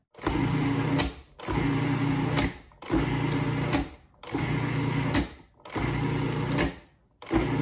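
A food processor pulses cold butter with flour for pie dough, giving five loud, even bursts of whirring motor, each lasting about a second, with brief gaps in between.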